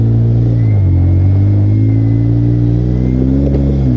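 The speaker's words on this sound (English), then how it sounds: "Give it some gas." An off-road vehicle's engine revs and holds a loud, steady rumble with a slowly shifting pitch, close up and continuous throughout, with no one talking over it.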